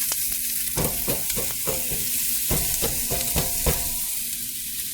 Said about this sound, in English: we're just going to throw that onion in there